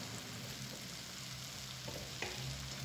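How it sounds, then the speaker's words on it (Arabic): Onions frying gently in a pan for a Moroccan tagine, a soft, steady low sizzle heard up close with a couple of faint clinks near the end, quiet and without talk. "غنخلي تقلى مزيان هاد البصيله"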